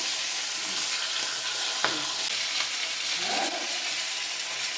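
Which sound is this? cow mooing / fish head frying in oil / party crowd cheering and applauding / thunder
fish head frying in oil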